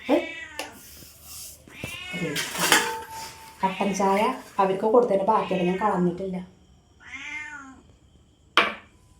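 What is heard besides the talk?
cat meowing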